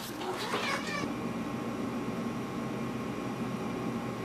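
Cat meowing indoors, a single loud drawn-out meow at the start over a steady background hiss, then only the faint constant noise remains.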